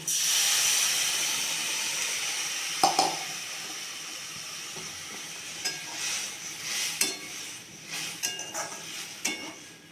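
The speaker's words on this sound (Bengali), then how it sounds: "ভাজা হয়ে গেছে, এখন আমি এর মধ্যে জল দিয়ে দেব।" Water hits a pan of frying mourala fish chochchori, giving a loud steamy hiss and sizzle that slowly settles, with scattered clicks and scrapes of stirring near the end.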